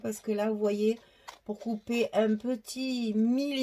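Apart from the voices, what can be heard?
No everyday noise stands out behind the speech.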